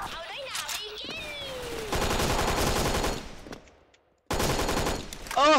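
UMP-45 submachine gun fire in the shooter game Special Force, heard as rapid automatic bursts with a silent gap before firing resumes, mixed with game effects and sweeping tones.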